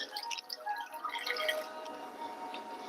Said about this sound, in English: I'm going to pour the coconut milk